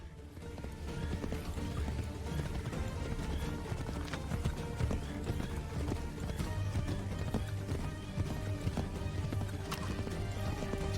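Horse hooves clip-clopping steadily in Assassin's Creed III Remastered, a continuous loud galloping rhythm over game ambience, with the horse occasionally snorting.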